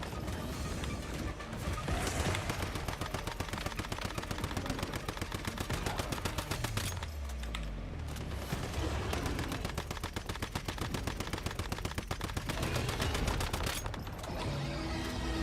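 Rapid automatic gunfire from Once Human, fired at a target leaping into the sky, rattling in long sustained bursts with brief pauses and mechanical clatter between volleys.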